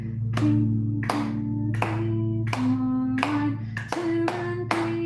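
Sharp hand claps struck in a steady musical rhythm, about seven distinct claps spaced unevenly over a sustained low piano-like tone in a class setting, close and clear with no talking.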